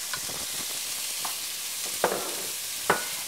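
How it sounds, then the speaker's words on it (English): Green pepper and onion sautéing in a pan: a steady hiss of frying with a few sharp utensil clinks and scrapes, no voices. "we're going to go ahead and saute this here"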